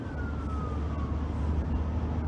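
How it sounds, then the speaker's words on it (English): An ambulance siren sounds on the road, a single faint tone sliding slowly downward as it passes behind steady low traffic rumble. "The ambulance, where he going?"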